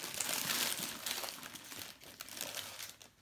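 Cellophane holder crinkling and rustling as fused glass Valentine's hearts on a card slide inside, close, soft and irregular crackles for a few seconds.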